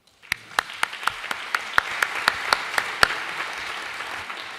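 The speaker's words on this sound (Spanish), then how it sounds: "Pues le recibimos con un fuerte aplauso." An audience at a Spanish law and defence conference welcomes a speaker with sparse, evenly spaced hand claps over a soft bed of applause. It starts abruptly and lasts a few seconds.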